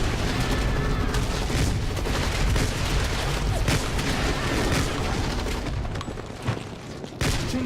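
Rapid blasts of shotgun fire in a fast-paced first-person shooter game, one dense barrage of loud shots and booms that thins out toward the end.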